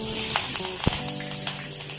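Curry leaves drop into hot oil with mustard seeds in a Kerala kitchen pan, giving a steady close sizzle with small crackles and one sharp pop, no talk.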